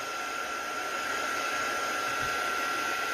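A handheld heat tool blows steadily to dry a gel press print, giving a constant loud whooshing hum with a fixed whine and no breaks.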